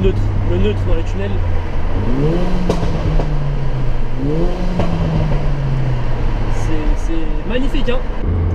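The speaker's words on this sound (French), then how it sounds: "Écoutez-moi le neutre dans les tunnels." A Mercedes A45 AMG idles and is revved in neutral inside a road tunnel, its engine note rising in two swells, then settling back to a steady drone under continuous reverberant road noise.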